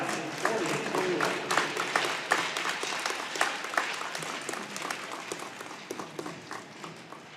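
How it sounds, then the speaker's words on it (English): Crowd applause at a high school hockey senior night for the Bulldog senior class, scattered sharp claps that gradually thin and fade, with a voice briefly audible. "a nice round of applause for your Bulldog hockey senior class in 2021"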